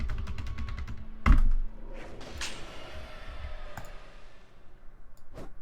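Computer keyboard keys are pressed in a quick run of light clicks, then a louder thump and a few scattered taps, all close and dry with no talking.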